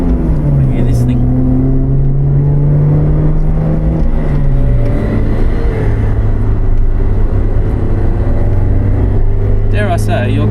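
Alfa Romeo GTV 916, a 2002 car with the 2-litre Twin Spark engine, droning steadily and loudly with pitch rising and falling as it revs, a continuous near engine note with a brief burst of higher noise near the end.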